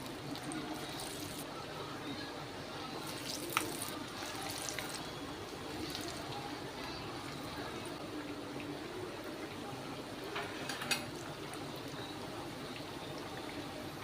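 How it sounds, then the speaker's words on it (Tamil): Masala vada deep frying in hot oil over a medium flame, giving a steady, continuous sizzle and bubbling hiss with a few sharper crackles, close by throughout. "மீடியம் ஃப்ளேமில் வச்சு பொறிச்சு எடுத்துக்கலாம்"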